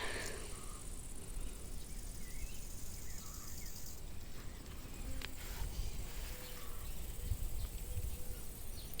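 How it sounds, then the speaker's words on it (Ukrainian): Crickets chirp faintly and steadily in a wheat field in a Ukrainian village at harvest time, a continuous thin insect trill over soft outdoor ambience. "Цвіркуни чи що це співає у пшениці?"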